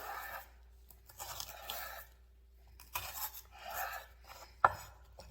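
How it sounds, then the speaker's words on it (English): Celery gets rough chopped with a knife on a cutting board in a home kitchen: a few quiet bursts of crisp cutting separated by pauses, closing on one sharper knock. "And I'm just going to rough chop it."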